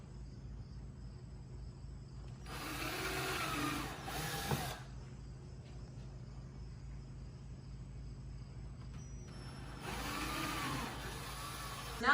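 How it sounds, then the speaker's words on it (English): A power drill pre-drills holes in a garage door jamb stop, two whirring bursts of a couple of seconds each, separated by a quiet stretch over a steady background hum. "we're going to go ahead and pre-drill some holes about 5 inches apart"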